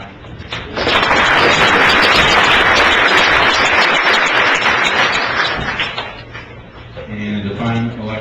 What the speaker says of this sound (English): I'd like to take a minute to acknowledge them with a little bit of applause, if you don't mind.